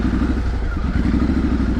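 A Triumph Street Scrambler motorcycle idles in a town centre, its engine producing a steady low throbbing rumble with a rapid even pulse, loud and close throughout.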